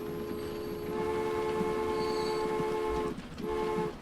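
A train pulls into a station in a railway video game, a steady rumbling rail drone with a short high horn-like tone partway through and a brief dip near the end, alone without talk.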